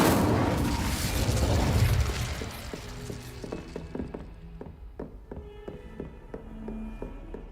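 A fire spell bursts in Hogwarts Legacy as a loud roaring whoosh that fades over two seconds, followed by scattered clinks, taps and small crackling impacts trailing off.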